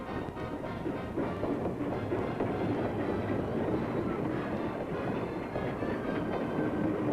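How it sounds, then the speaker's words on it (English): A special passenger train pulls out of a station, rumbling steadily with a continuous rolling roar and rhythmic clatter of wheels on track, loud and close. "the homeward bound special train chugs out of the station"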